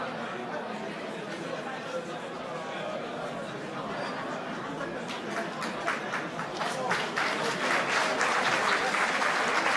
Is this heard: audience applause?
yes